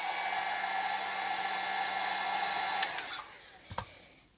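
Hair dryer blows heat onto a sticker on the back of an iPhone 5S, a steady close roaring hiss with a low hum that cuts off, followed by a few small clicks and taps.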